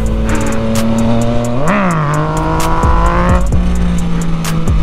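A Yamaha FZ-09 motorcycle riding through Los Angeles streets gives a loud, close engine drone that climbs into two sharp revs, settling between them, with faint tyre and traffic noise around it.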